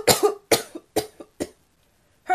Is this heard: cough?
yes